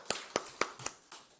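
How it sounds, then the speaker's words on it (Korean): A Korean church congregation at Sunday worship gives a few hand claps, five quiet, evenly spaced claps with nothing else heard. "그렇게 하실 하나님께 미리 영광의 박수 올리십시다"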